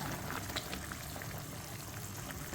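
Fish and cauliflower curry with tilapia bubbling at a steady boil in a pot, a continuous soft hiss and burble with faint pops, heard up close and alone.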